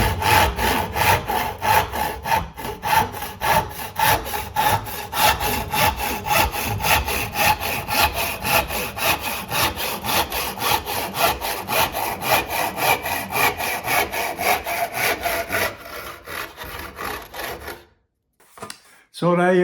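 Freshly sharpened crosscut saw working through oak, a steady rapid back-and-forth rasp of strokes, loud and close, running continuously for most of the clip before stopping near the end.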